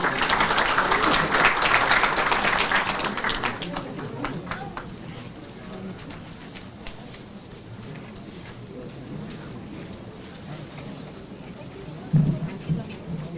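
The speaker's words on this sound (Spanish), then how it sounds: "Solicito un fuerte aplauso para él, por favor." An audience at a conference on the new Código Procesal Penal breaks into applause for a speaker, with loud clapping in the first few seconds that fades into quieter scattered claps and room noise.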